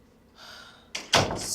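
A door swings shut with a sharp thud, and a second heavier knock follows moments later, like it being pushed home and locked, close and loud after a quieter hiss.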